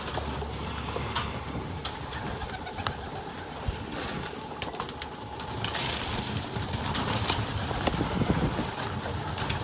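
Pigeons cooing steadily in a crowded indoor hallway at feeding time, a dense chorus of coos and flutters with an engine-like idling hum underneath.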